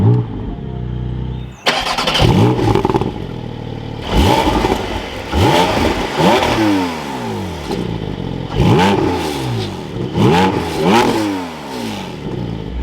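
A Porsche 718 Spyder engine cranks and catches with a sharp burst, then settles into a loud, close idle broken by several quick throttle blips that rise and fall in pitch, with no talking over it.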